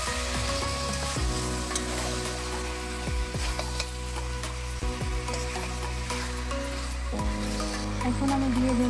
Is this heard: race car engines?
no